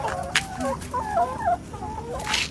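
Chickens cluck and squawk in a quick, busy run as they come out of their coop on a home garden plot, close by, with no talk over them.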